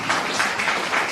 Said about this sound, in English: Let us give a big clap to principal and team for organizing